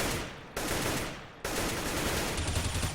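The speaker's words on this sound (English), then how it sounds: "They're trading bullets, but not many are hitting" Rapid bursts of automatic gunfire from a Counter-Strike match on the Overpass map, loud and sustained, with sharp breaks between volleys as players trade shots.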